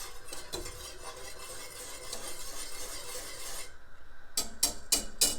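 A whisk stirs thickening grits in a pot, producing a continuous scraping, rasping swirl against the metal, followed by a few sharp clinks and taps at the end.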